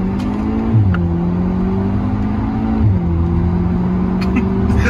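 Audi S3 8P with a 310 hp stage 1 tune, its engine droning and revving with rising and falling pitch sweeps, loud and continuous throughout, with faint voices in the background.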